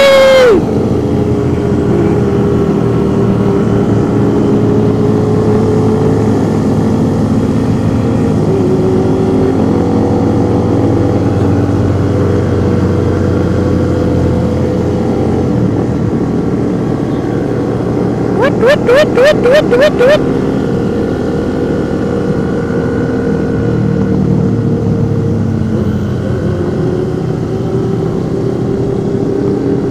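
Big motorcycle engine idling with a loud steady drone through a Sunday-morning ride meetup, one short burst of rapid revving partway through, with people talking over it.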